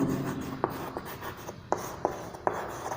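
Pen scratching across paper in short strokes, with a few sharp taps as the pen is lifted and set down, close and fairly quiet.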